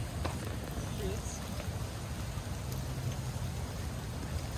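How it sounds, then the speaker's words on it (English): Steady rain falls on a rainy day in Houston, a soft continuous hiss of drops on surfaces heard at a distance, fairly quiet and unbroken throughout, with a faint voice in the background. "Rainy day in Houston."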